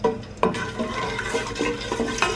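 A spoon stirs kofta curry masala frying in a pan, with scraping strokes over a low sizzle, close and moderately loud, with no talk.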